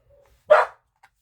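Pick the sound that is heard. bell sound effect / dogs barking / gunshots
dogs barking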